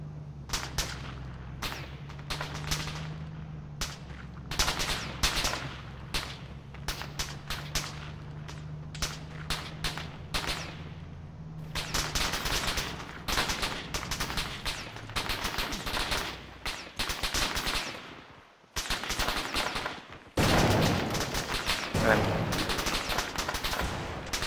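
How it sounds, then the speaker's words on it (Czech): Arma 3 gunfire aimed at the player: rapid cracking shots and bursts throughout, some close and sharp, others in quick clusters, over a low engine-like drone early on, with a brief near-silent gap late. "Jaké kurvy po mně střílej"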